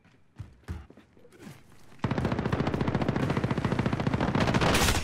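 Automatic gunfire in Call of Duty: Modern Warfare, a long sustained rapid burst starting partway through and running to the end, loud and close, preceded by a few scattered thumps and quieter game sounds.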